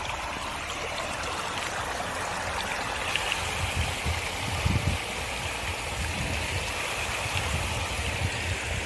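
Water rushing steadily at Satbahini waterfall in Jharkhand, a continuous, close stream flow with slight surges and low splashing thumps near the middle.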